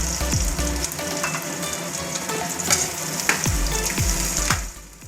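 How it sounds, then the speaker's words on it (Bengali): Bitter gourd fries in hot oil with a steady loud sizzle while potatoes are added and stirred in, bringing several low scraping stirs and thumps over the continuous crackle. "করলাটা ভাজা হয়ে এসছে। এবার আলুটা দিয়ে একটু নেড়ে চেড়ে"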